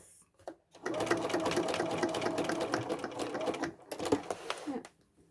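A sewing machine runs in a long, steady, busy burst while stitching a big zigzag to attach handles on a red velvet tote bag, starting after a few quiet handling sounds and ending with brief clicks.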